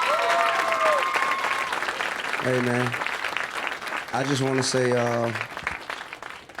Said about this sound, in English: can we give T.I. a round of applause